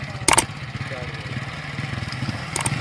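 Motorcycle engine idling with a steady low pulse during a motorcycle tug-of-war contest, interrupted by two brief sharp clanks or cracks near the start and end, with faint background voices.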